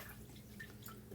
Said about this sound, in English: I'm going to go ahead and wash out my paintbrush in my water real quick